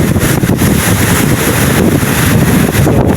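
Strong typhoon wind roars steadily against the microphone along with crashing waves, a loud, continuous rushing that gusts in and out, close by and without any voices.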